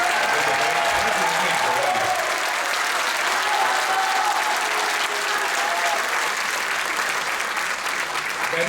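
An audience breaks into loud, dense applause that holds steady for several seconds, with a voice faintly audible beneath the clapping.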